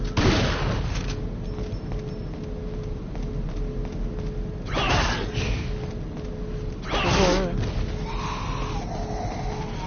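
Shotgun blasts in Resident Evil 4, two loud booming shots a couple of seconds apart over dense game noise and music.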